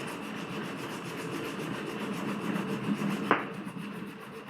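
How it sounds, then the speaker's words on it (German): Wood surface being wet-sanded by hand with fine sandpaper while making a recessed handle, giving a steady, soft rasping rub that continues throughout, with one brief knock near the end. "wieder ein bisschen Wasser kurz und weiter geschliffen"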